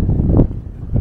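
Gusty wind blows across a canyon at Hovenweep National Monument in Colorado, a steady low roar buffeting the microphone with a stronger gust midway, heard alone without speech.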